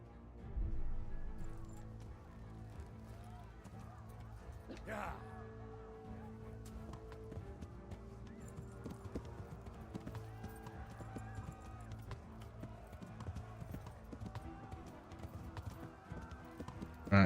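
Hooves clip-clop steadily as a horse walks along a path in the video game Kingdom Come: Deliverance, fairly faint under a person talking.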